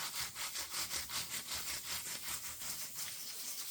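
Stainless steel guitar frets are sanded by hand with fast, even back-and-forth strokes that give a close, hissing, rhythmic scrape. No voice is heard.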